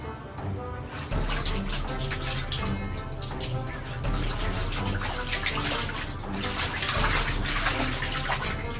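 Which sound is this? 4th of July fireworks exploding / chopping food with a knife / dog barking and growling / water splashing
water splashing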